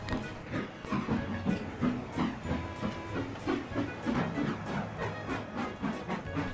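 A model train departs Knapford station on a Sodor-themed layout, with a steady rhythmic clatter of wheels and chuffing, moderately loud and close, with no talk.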